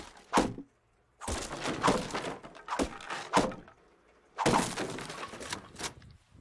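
Video game bed-destroying melee raid: several loud, close bursts of breaking and smashing impacts in a rough rhythm, with short silent gaps between the bursts.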